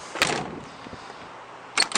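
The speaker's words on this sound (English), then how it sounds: "Door shut good." An original, worn older car has its door shut, giving a solid thump near 0.2 seconds and two more sharp clunks near the end over a quiet background.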